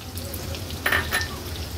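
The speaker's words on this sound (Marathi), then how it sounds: "तेल व्यवस्थित गरम करून घेतलं की ह्याच्यामध्ये आपण कांदा आणि हिरवी मिरची फोडणीला घालणार आहोत" Onion and green chilli crackle and sizzle in hot oil in a pan, with a couple of brief louder spatters over a low steady fry.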